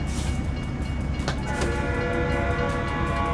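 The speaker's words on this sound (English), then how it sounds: "Train." A train passes in American Truck Simulator, its horn sounding through a steady rumble of wheels and engine that stays loud for the whole stretch, with no talking.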